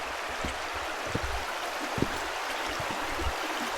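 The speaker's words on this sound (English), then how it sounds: "I love the sound of the water." River water flowing over rocks along a riverbank at John Bryan State Park, a steady broad rushing wash with occasional small splashes and gurgles, continuous and fairly close.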